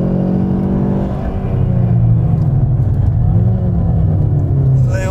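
Engine of a 2016 Ford Mustang with the 2.3 EcoBoost revving up and settling while the clutch is worked, a loud, steady close-up drone with rising and falling pitch, people talking over it.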